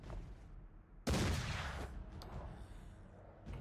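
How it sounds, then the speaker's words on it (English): A single loud sniper rifle shot cracks in Mordheim, a sudden sharp blast followed by a rolling echo and rumble that fades over two seconds, with a faint click near the end. "Fine, sniper shot."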